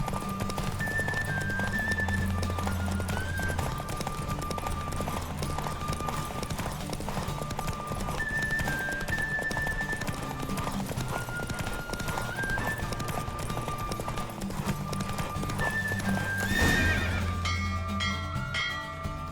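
Steady clip-clop of hooves at a fast pace over continuous game music in The Witcher 3: Wild Hunt, with a horse whinnying briefly near the end.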